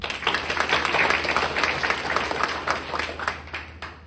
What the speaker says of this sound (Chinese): 给我们一个产品啊，一个热烈掌声